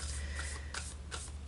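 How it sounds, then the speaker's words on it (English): Cards drawn from an Angels and Ancestors Oracle deck, a few soft papery slides and flicks close by, quiet and unhurried with short gaps between each rustle. "I'm going to pull two from the Angels and Ancestors Oracle cards"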